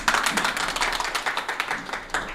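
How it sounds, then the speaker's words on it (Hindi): Attendees at a village panchayat vigilance awareness event clap briefly, a quick burst of close, crisp hand claps from a small group, lively and slightly uneven. "तालियां"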